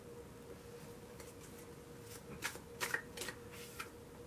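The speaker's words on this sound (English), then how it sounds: "You all saw me shuffle that time." Tarot cards are shuffled in several quick riffling bursts, close and fairly soft, with a faint steady hum behind them.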